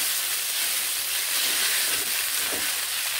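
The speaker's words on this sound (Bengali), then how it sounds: "এবার এখানে আমি সেদ্ধ করে রাখা চাউমিনগুলোকে এখানে আমি দিয়ে দিচ্ছি। আমি একটু করে দিচ্ছি, একটু করে এইভাবে নেড়ে নিচ্ছি।" Boiled chow mein noodles stirred into a hot pan for a veg egg chow mein, with a steady close hiss and a few soft scraping strokes.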